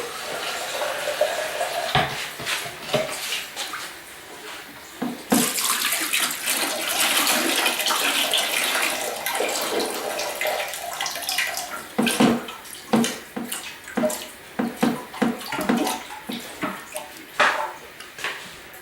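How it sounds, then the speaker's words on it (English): Running water gushes and splashes into a toilet tank, with intermittent clattering and knocks as sediment is rinsed out; no voices. "so I'm going to go ahead and rinse that out."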